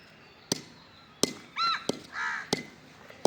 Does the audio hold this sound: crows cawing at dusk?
yes